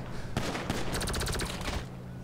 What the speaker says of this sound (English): Well, that's a nice gun. What the heck is that? Sounds like an energy weapon.